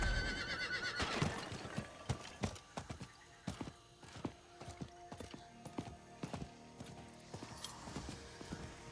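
In the Diablo IV video game, a horse whinnies at the start, then hooves clip-clop in a steady walking rhythm with faint creaking tack, close and fairly quiet throughout.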